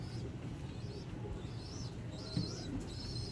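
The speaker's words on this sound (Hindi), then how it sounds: "ये आपकी स्क्रीन पे प्योर मिस्से दोस्तों कबूतर" Missa pigeons coo softly at a loft, low repeated throaty calls against a faint background hum, with a few higher chirps mixed in.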